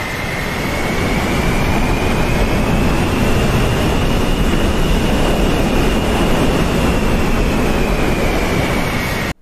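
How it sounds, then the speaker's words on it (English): Steady, loud rear-aspect exhaust roar of an F-14 Tomcat fighter jet in the DCS World flight simulator, with a broad rushing rumble and a faint high whine that slowly shifts in pitch, heard close and alone. "new rear aspect exhaust sounds"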